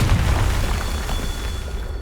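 A Confringo fire spell explodes in Hogwarts Legacy, delivering one heavy, close boom at the start whose low rumble rolls and fades over the next two seconds.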